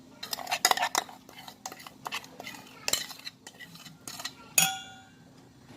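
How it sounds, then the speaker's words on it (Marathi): Rawa cake batter being whisked in a metal bowl, giving irregular clinking and scraping strokes of a utensil against the bowl, close and fairly quiet, with a faint steady hum underneath. "आता हे बॅटर आपण फेटून घेऊया।"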